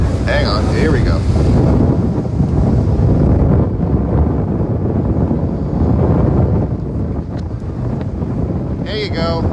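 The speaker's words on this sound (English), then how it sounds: "At least listen to the wind blow." Strong wind roars and buffets a microphone on a boat at sea during a whale and dolphin watch. The rushing noise is loud and continuous, with brief voices near the start and end.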